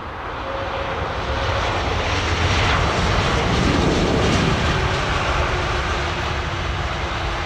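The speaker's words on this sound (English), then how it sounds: "Emirates 380 going back to stand." An Emirates Airbus A380 airliner taxis back to its stand at London Heathrow, giving a loud, steady jet roar and rumble that swells slightly midway and holds for the whole stretch, with no voices.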